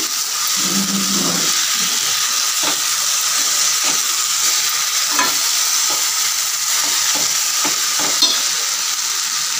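Chopped fenugreek leaves stirred into an onion-tomato mixture frying in a pan, with a steady loud sizzle throughout and occasional soft scrapes and clinks of the spoon.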